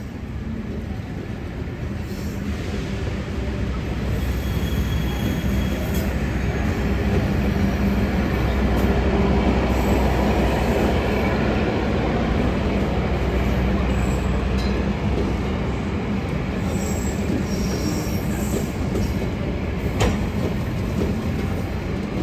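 An Indonesian Jayakarta Premium passenger train of 15 cars, running from Surabaya Gubeng to Pasar Senen, rolls steadily along the rails with a continuous rumbling drone and faint rhythmic clatter, close and constant throughout.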